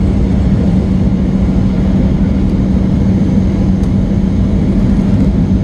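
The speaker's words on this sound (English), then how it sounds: "We are coming in for landing." Steady low rumble and whir of a fixed-wing airliner cabin on final approach into Baltimore, continuous and loud throughout with no talk.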